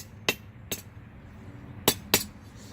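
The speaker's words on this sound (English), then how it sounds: "helps to use the correct side of the hammer" A blacksmith's hammer strikes hot steel while forging a left-handed J hook: four sharp, ringing blows, two spaced apart and then a quicker pair, loud and close over quiet shop background.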